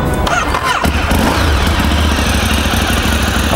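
A Ducati 848 EVO motorcycle engine cranks and fires up, then settles into a loud, close, throbbing idle with a steady low rumble, no voices over it.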